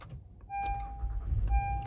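A 2018 Honda Ridgeline RTL-E pickup starts from inside the cab: a steady electronic chime sounds, then a low engine rumble swells and settles into a close, moderately loud idle.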